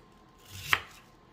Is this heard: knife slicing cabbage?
yes